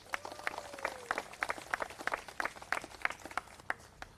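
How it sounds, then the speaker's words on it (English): An outdoor audience at a Native American monument dedication claps for several seconds, the scattered individual claps distinct and fairly light rather than a dense roar. "Let's give them another round of applause there."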